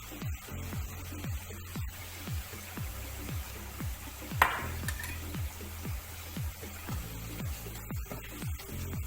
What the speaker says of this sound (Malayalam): അപ്പോൾ നമുക്ക് ബാക്കിയുള്ളത് കൂടി ഇങ്ങനെ ഒന്ന് വറുത്തെടുക്കാം.